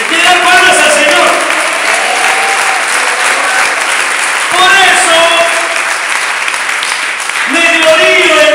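A church congregation claps loudly and continuously in praise, a dense wash of applause with voices singing and calling out over it and someone speaking briefly.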